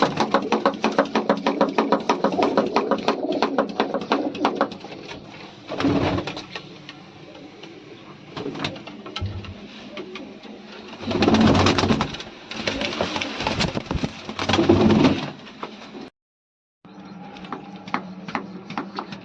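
Pigeons coo in low, soft bursts close by, over a steady mechanical rattle and busy background noise.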